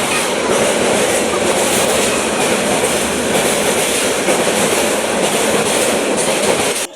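A passenger train running on rails, a loud continuous rumble with rhythmic clickety-clack of the wheels, heard from close by with no pause until the very end.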